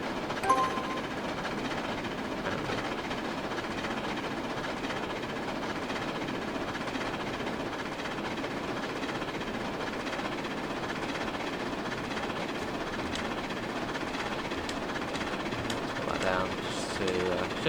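A train running on rails in the Trainz video game on Scotland's East Coast Main Line, heard as a steady, even rumble and drone of wheels and motor that carries on without letup from start to end.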